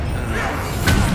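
A Confringo blast curse cast in Hogwarts Legacy lands as a short, loud thud with a crashing burst.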